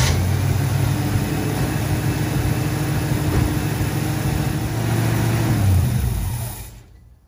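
A car engine fitted with a newly installed Edelbrock carburetor runs loud and steady at a low rumble for about six seconds, then fades out as it cuts off.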